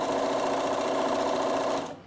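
A Bernina sewing machine stitches around a vest in a fast, even, buzzing run that cuts off just before two seconds, leaving near silence.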